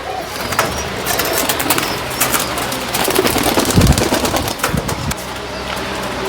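High-flying pigeons of an old bloodline, just released, coo amid a dense wash of rustling and fluttering noise, with a louder thump near the middle.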